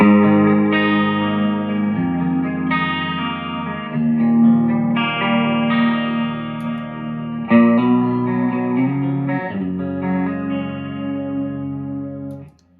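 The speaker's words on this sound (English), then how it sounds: "this is like it is a flanger, but I use it for my like rotary." Sustained electric guitar chords through a flanger pedal set as a rotary effect shimmer with a swirling, warbling modulation like a rotating speaker, changing chords every couple of seconds, loud and alone.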